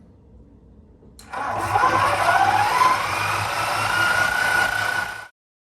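A honey extractor spins uncapped frames during a late summer harvest, its motor starting abruptly and holding a steady loud whir and hum for about four seconds before cutting off.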